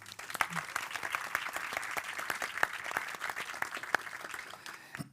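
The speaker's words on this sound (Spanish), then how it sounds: "Un aplauso," A fairly quiet audience at a Goya Awards panel on best original music applauds a composer guest, with steady, even clapping that holds throughout and a voice briefly heard.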